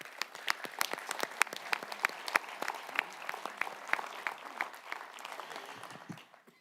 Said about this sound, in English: We might have a round of applause for all of them.